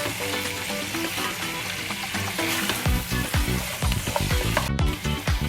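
Chicken pieces frying and sizzling loudly in a pot with black pepper and salt for an Anglo Indian pot roast, with steady crackle and clattering stirring strokes near the end.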